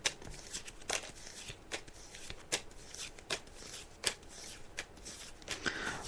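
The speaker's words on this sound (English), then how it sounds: "I'm just laying out the cards now." Tarot cards are laid out one by one during a psychic reading on an Irish show: quiet, crisp slaps and soft shuffling swishes at an irregular pace, close by, with no talking.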